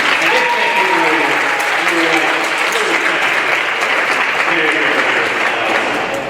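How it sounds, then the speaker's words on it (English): Audience applause fills a middle school band and orchestra concert hall, a steady dense wash of clapping sustained at an even level throughout with no voices standing out. "They deserve a round of applause too."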